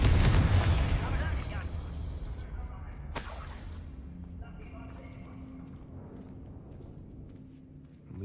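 A Confringo fire spell from the video game Hogwarts Legacy detonates in a loud, booming blast that rumbles and slowly decays over several seconds, with a second sharp crack partway through and low ambient hum beneath.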